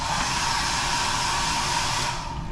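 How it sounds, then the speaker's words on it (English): A hair dryer built into a cruise ship cabin blows with a steady, loud whooshing whir at close range, then cuts off abruptly near the end. "It is a built-in hair dryer."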